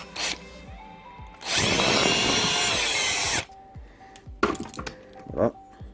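A power drill with a small 2.5 to 3.5 mm bit bores a hole while fitting a lamp to a Resqme window-breaker and belt-cutter tool, one loud two-second whine between quiet clicks and handling taps.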